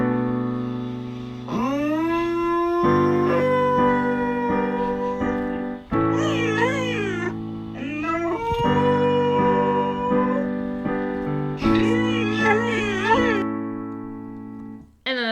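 A dog howls along with a song's vocals, its long, wavering pitched howls gliding up and down over sustained keyboard chords, with no talking.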